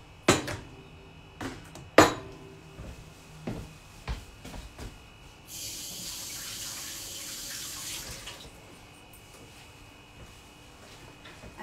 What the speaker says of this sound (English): I'm just going to wash my hands, so give me 1 second.